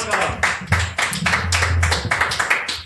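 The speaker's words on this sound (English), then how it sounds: "Guys, round of applause for moving out of Idaho." An audience bursts into a round of applause at a live comedy show, a dense run of quick hand claps filling the room for a few seconds with a low voice murmuring underneath.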